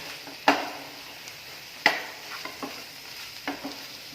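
Cooked carrots with chopped curry leaves and coriander are stirred in a pan, with a few distinct scraping knocks of the utensil over a soft, low sizzle.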